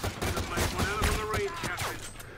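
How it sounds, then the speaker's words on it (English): Rapid gunfire in the Call of Duty: Infinite Warfare shooter, a quick volley of sharp shots crackling over about two seconds, mixed with game sounds and a voice talking. "I thought he was shooting at me at first."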